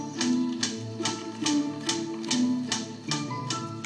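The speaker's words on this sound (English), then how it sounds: "That clicking noise is not his wings striking the wood, but quills flicking against one another like the clicking of fingers." A male bird's quills flick against one another in a mating dance, producing a rapid series of crisp clicks in regular rhythmic bursts, close and distinct over soft background tones.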